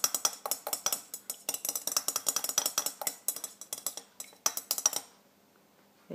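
A utensil stirs melted soy wax for candles, giving quick, rhythmic metallic clinks against the container for about five seconds before stopping, close and clear with no talking.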